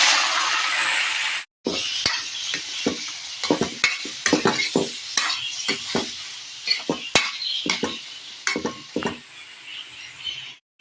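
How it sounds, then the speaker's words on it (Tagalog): Squid dropped into a hot pan for adobo, a bright steady sizzle with clattering utensil scrapes and stirring knocks against the pan, close and loud. "Ilagay na po natin ang pusit."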